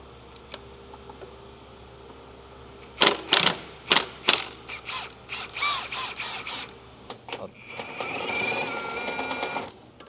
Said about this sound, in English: we're gonna go ahead and loosen up the top bolts for the alternator